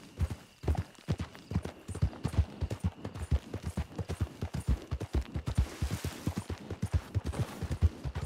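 Horse hooves clip-clop steadily in the video game Red Dead Redemption, a brisk even rhythm of close, loud hoofbeats continuing throughout with a slight rise in busy background noise later.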